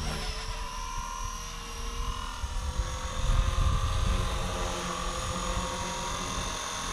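RC helicopter hovering in place, a steady whirring rotor and motor drone at moderate distance with a slight swell midway, no talk.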